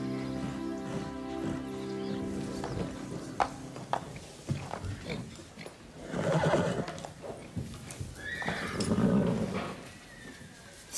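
A mare neighs and whinnies, with hoof clip-clops in between, fairly close, and louder bursts near the middle and the end; faint voices can be heard in the background.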